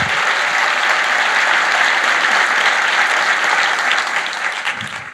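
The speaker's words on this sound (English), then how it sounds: "Join me in giving them an extra round of applause." Dense, sustained applause from a keynote audience at a sustainability business conference, honoring a group of emerging leaders; the clapping stays loud and even before tapering off near the end.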